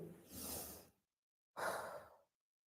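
Breathing in during a cobra stretch, two deep audible breaths close to the mic, a long airy inhale followed after a short pause by another breath, with no talking.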